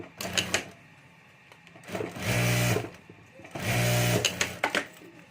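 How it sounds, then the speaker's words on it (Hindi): A sewing machine stitches fabric lining on a homemade pencil pouch in two sustained runs of rapid mechanical whirring, with handling clicks and rustles between them, close and fairly loud. "तो यहाँ ऊपर मैं एक सिलाई कर देता हूँ।"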